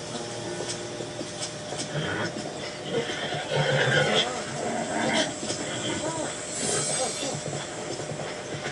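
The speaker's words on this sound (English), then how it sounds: "it's so annoying you have to keep soothing the horse when your bond isn't strong" A horse in the video game Zelda: Breath of the Wild whinnies and neighs, the calls rising out of a busy game soundscape over several seconds.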